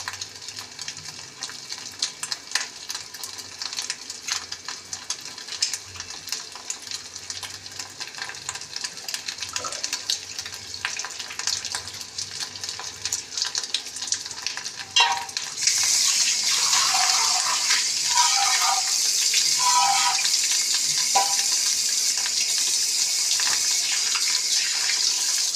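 Fish roe frying in a pan with oil, salt and turmeric: a steady hiss and crackle that jumps to a loud, dense sizzle partway through and stays there to the end, with no voices.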